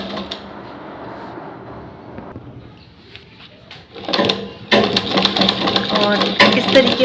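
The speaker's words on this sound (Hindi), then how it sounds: "इस तरीके से खींचते हुए हम पूरे इलास्टिक की सिलाई जो है वो लगा लेंगे" A sewing machine stitches elastic onto ladies' pants, running in uneven bursts that grow louder and faster toward the end, with someone speaking over the motor throughout.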